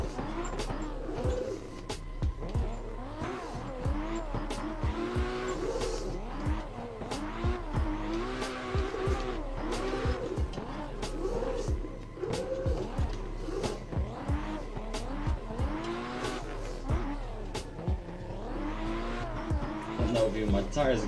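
A car drifts up a mountain road with banked corners, tires squealing in repeated bursts over a steady engine drone, while people talk and react throughout.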